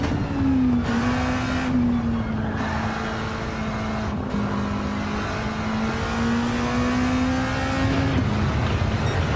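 In the Gran Turismo 7 racing game, a race car takes a corner with a sustained engine drone that shifts pitch through gear changes, loud and steady with no talk.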